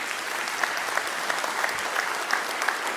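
Applause from a live audience, a steady wash of many hands clapping at a fairly even level for a few seconds, with scattered sharper claps standing out.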